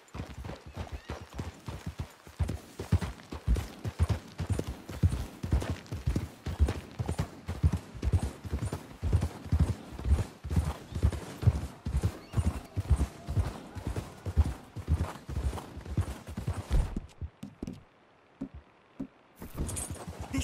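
Horses trotting in Red Dead Redemption 2, a steady run of close hoof clip-clops on hard ground for most of the stretch, with a brief neigh and fading steps near the end.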